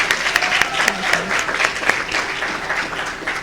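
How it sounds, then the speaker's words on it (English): Sustained applause from a research conference audience, dense steady clapping filling the room at close range from start to finish. "let's give her another round of applause"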